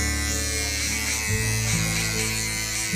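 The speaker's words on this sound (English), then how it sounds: "To clean it better, we take usually a small nice machine." An electric hair clipper buzzes steadily and close during a man's haircut, its motor tone shifting slightly partway through as it trims.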